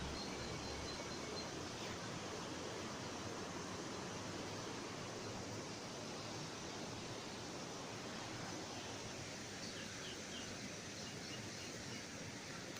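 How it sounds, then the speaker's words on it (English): Algar waterfalls on the Costa Blanca heard from a distance as a faint, steady broadband rush of falling water, continuous and unbroken with no voices. "You can hear the waterfalls from here."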